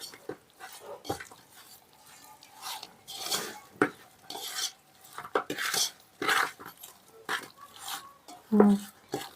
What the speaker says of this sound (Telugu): ఫస్ట్ అయితే ఇవన్నీ కలుపుకుందాం. మంచిగా కలుపు.